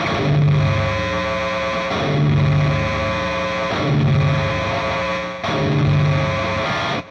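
A distorted electric guitar recorded direct at home plays heavy palm-muted chugging riffs, loud and close, in four repeating phrases separated by brief breaks.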